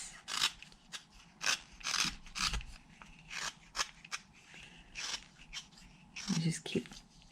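A whittling knife makes push cuts to round over the edge of a wooden spoon, giving repeated close, dry scraping strokes in an irregular rhythm while a person talks softly between them.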